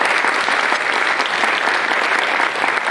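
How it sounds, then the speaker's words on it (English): An audience at a high school jazz lab and orchestra showcase applauds the student leaders, a dense, steady wash of many hands clapping close and loud throughout, with no talk over it. "So if we can give our student leaders a small round of applause."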